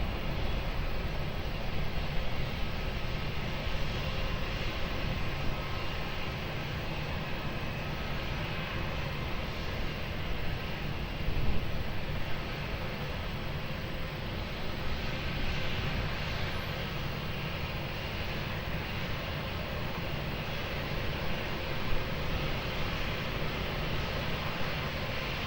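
A plane comes in to land at Lisbon Airport on runway 20, its engine noise a steady, broad roar that holds fairly level throughout with no voices.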